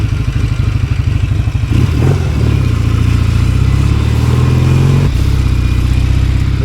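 A 1975 Norton motorcycle with electric start and Brembo brakes is ridden, its loud, close engine rumbling with a pulsing beat and its pitch shifting twice as the throttle changes.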